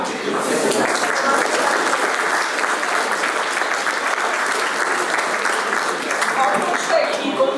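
An audience at a school history contest claps in sustained, dense applause at a steady level. Faint voices murmur now and then beneath the clapping.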